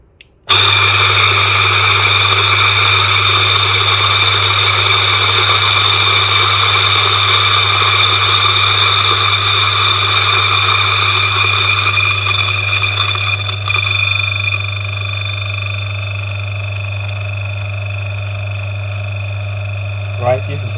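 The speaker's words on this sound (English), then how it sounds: "Now let me engage the grinder." A DF64 coffee grinder fitted with an anti-popcorn mod grinds coffee beans at setting 47, giving a loud, steady motor whine with a strong low hum that runs for about twenty seconds and eases slightly near the end.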